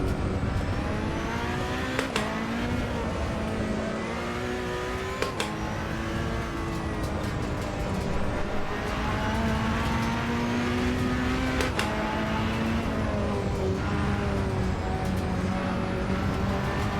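A Ferrari in the Assetto Corsa Evo racing game revs loudly and continuously, its engine note climbing and dropping through quick gear changes with sharp shift clicks, close and unbroken with no talking.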